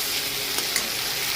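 Masala frying in oil for katla fish kalia, a steady dense sizzle throughout with a couple of brief sharper crackles, close and even, no voices.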